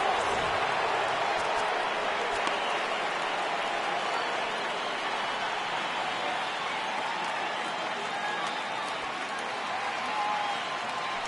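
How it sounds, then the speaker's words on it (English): Baseball stadium crowd rising and cheering for a full count, a steady, dense roar of many voices holding loud and even throughout. "Crowd gets up for the 3-2."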